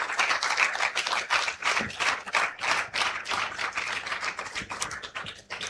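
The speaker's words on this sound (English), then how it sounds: "So could you please give a round of applause for that?" Festival audience at a panel session claps for internship opportunities: close, uneven applause with individual hand claps pulsing in bursts, thinning briefly midway before resuming.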